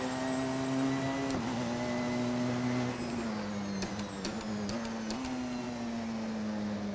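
A Porsche 919 LMP1 race car engine in Assetto Corsa, a sustained buzzing, whining drone that shifts pitch slightly several times, with faint clicks near the end and no speech.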